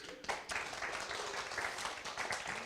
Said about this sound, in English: Give Rich a round of applause